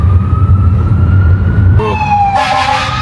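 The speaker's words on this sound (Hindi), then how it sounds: "I reckon that's the fire brigade." A fire brigade engine's siren wails past outdoors amid drifting smoke from a nearby fire, its rising and falling tone starting steady, then joined by a second, louder siren with a busy traffic rumble underneath.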